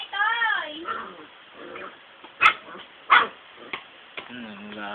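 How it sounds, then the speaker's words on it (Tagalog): Dogs fighting, with sharp barks, yips and whimpers breaking out in bursts close by, and people talking between the scuffles. "Nag-aaway yung aso."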